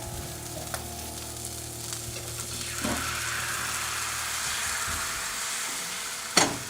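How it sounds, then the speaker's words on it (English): Vietnamese batter sizzling steadily as it fries in a hot pan, a continuous close crackling hiss with a sharper clatter near the end and no talk. "that sizzle is what you heard when that batter went in"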